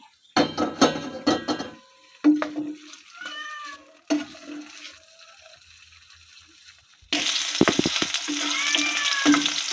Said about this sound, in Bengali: আলুগুলো ভেজে নেব আগে